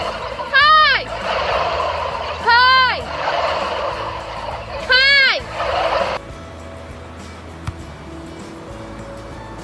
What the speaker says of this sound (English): spent time with the turkeys on her family's turkey farm